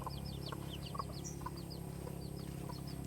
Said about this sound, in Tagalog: Apat yung anak ng manok.